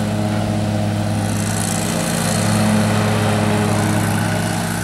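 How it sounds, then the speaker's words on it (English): A Toro Z Master zero-turn lawn mower runs without its discharge flap, its engine droning loud and steady with a constant low hum and no pauses. "She's using the Toro Z Master without the discharge flap"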